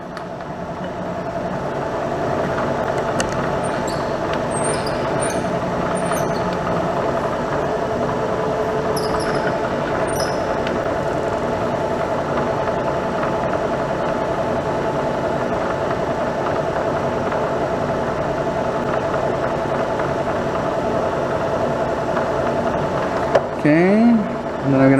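A milling machine spindle running in high gear around 1,000 RPM with an edge finder fitted, a steady mechanical hum and whine that stays even throughout, close and loud, with a brief squeal near the end.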